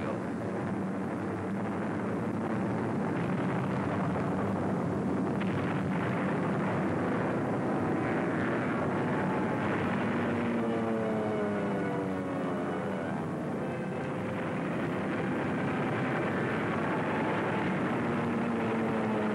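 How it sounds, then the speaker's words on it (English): Engines of B-29 bombers drone in flight over Japan, a loud continuous roar with wind rush and shifting tonal harmonics throughout. "The leading B-29s found their objective."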